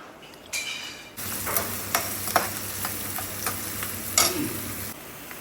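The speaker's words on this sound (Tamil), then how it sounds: "பெரிய வெங்காயம், பச்சை மிளகா 2, கருவேப்பிலை இதெல்லாம் போட்டு தாளிச்சிக்கலாம்" Onion, two green chillies and curry leaves dropped into hot oil for tempering: a burst of sizzling sets in after a quiet start, with several sharp stirring clacks and steady crackle, then fades near the end.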